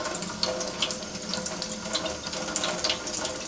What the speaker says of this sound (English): Leave that running on hot for a bit to make sure that's the right side.